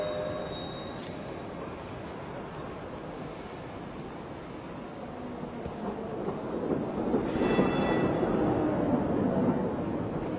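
A train moves through a railway station, a steady rumbling roll with squealing wheels that swells louder toward the end, heard from nearby without speech.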